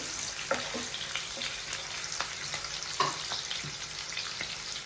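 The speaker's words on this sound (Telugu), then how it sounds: "ఇది పచ్చివాసన పోయేదాకా ఫ్రై చేస్తున్నాం" Masala for paneer curry fries in a pan with a continuous soft crackling sizzle and a few light utensil taps, fairly quiet and close, with no speech.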